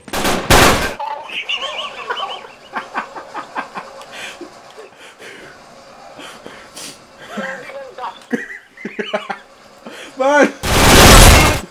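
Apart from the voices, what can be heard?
machine gun fire in Uncharted 3 multiplayer video game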